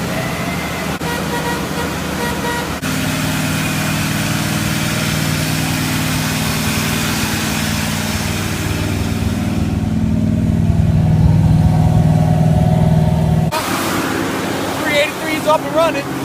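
A Nissan Z fitted with a Blueprint Engines 383 stroker V8 runs with a steady, loud engine rumble that swells slightly midway, with some wind or handling noise and a brief change near the end.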